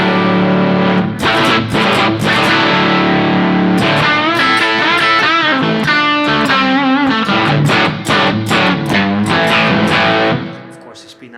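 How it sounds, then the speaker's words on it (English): Electric guitar with P90 pickups played through a Princeton Reverb amp, giving a mushy, muddy distortion; loud chords and riffs ring continuously for about ten seconds, then cut off and fade. "it already has this, this mushy, muddy distortion"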